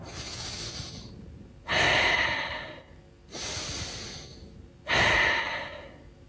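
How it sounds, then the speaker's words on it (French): Three deliberate, loud inhalations through the nose, each a rushing breath of about a second separated by quieter pauses, close to the microphone, in a breathing exercise. "on inspire par le nez comme ça"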